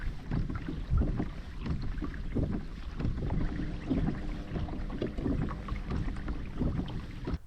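Kayak pedalled upriver on Australia's largest inland waterway, with steady water sloshing and churning against the hull under gusty wind buffeting the microphone, continuous and close.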